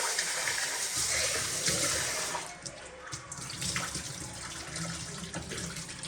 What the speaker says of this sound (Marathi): मस्त आता धुतले एकदा पाणी साफ धुवून पाहिजे